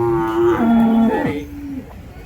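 A large native cow moos loudly and close by at a busy cattle market in Orappam, one long drawn-out low call that bends in pitch before fading into the market noise.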